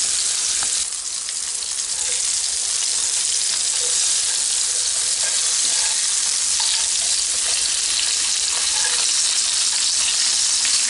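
Thin chapli kebabs frying in oil in a pan over a medium-high flame, a continuous loud sizzle with faint crackles and a short disturbance near the start, no talking.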